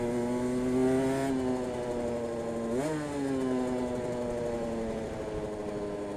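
A 125cc two-stroke Aprilia RS125 motorcycle with a new exhaust, heard close while riding, its high buzzing engine droning steadily and rising and falling in pitch as it revs and shifts.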